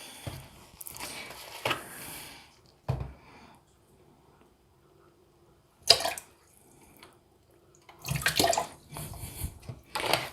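Water splashes and sloshes in a container as cuticle nippers sit in water and bleach is poured in, heard in irregular bursts of pouring and swishing separated by quiet gaps, with no voices.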